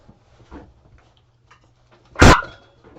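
A single loud, close dog bark bursts out sharply amid a quiet room with faint background noise and a few soft thumps.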